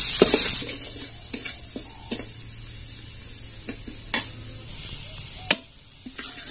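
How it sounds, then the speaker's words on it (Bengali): Chopped onion frying in oil with cardamom, cinnamon and bay leaves, a steady sizzle with repeated stirring scrapes and clinks of a utensil against the pan. "এলাচি দারচিনি, পেঁয়াজ কুচি, পেঁয়াজটা একটু লাল লাল করে ভেজে নিব।"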